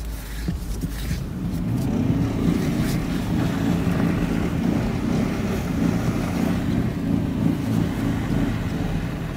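A Jeep with open differentials, stuck on a newly opened dirt trail, revs hard in first gear with a loud, sustained, rough engine roar and wheel strain, with wind noise and no talk.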